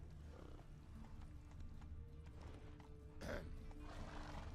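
In the Witcher 3 video game, the horse Roach clip-clops along with steady hoofbeats, then lets out a short, loud neigh near the end, all close and without talk.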